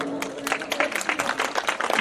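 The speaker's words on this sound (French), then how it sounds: "Je veux applaudissements sur le Gorgika." An audience at an environmental quiz competition gives a short burst of applause for the jury president, brisk scattered clapping throughout.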